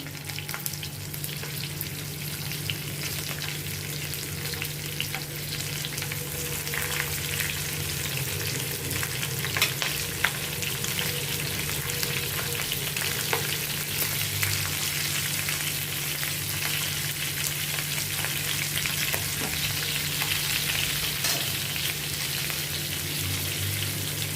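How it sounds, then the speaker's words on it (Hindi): Whole green chillies fry in hot oil over a medium flame for a stuffed masala chilli dish, giving a steady, dense sizzle that holds evenly throughout, with a faint low hum underneath and no talking. "इसमें मैं ये मिर्ची फ्राई करने के लिए डालती हूँ सभी"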